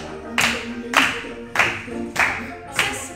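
Five sharp hand claps land at a steady, even pace over a faint musical backdrop during a preschool dance class, with no talking.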